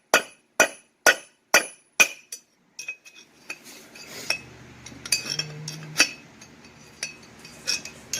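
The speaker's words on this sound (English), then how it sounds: "We'll just grab a bigger hammer." A hammer strikes metal five times in an even rhythm, each hit sharp and ringing, followed by lighter scattered clinks and taps, while removing a front wheel bearing on a 1999 Ford Ranger.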